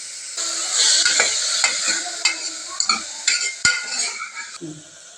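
Onion and tomatoes stirred and sautéed in a pan for a healthy greens rasam, a steady close sizzle broken by repeated scraping and clinking of a utensil against the pan, with no talking.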